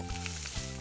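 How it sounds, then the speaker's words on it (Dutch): Sausages frying in a pan for hotdogs, a close, continuous loud sizzle with two soft bumps of movement, no voices. "Laten we wat worstjes bakken."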